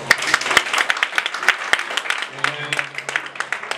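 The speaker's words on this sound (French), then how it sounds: "On applaudit très fort." Guests clap at a beauty institute graduation ceremony. The claps are scattered and uneven, with voices talking over them and a steady hum entering toward the end.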